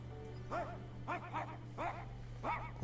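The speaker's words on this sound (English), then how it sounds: "Righteous barking of a dog." A dog barks several times in short, separated bursts in the video game Honkai: Star Rail, over a steady low electronic hum, moderately faint.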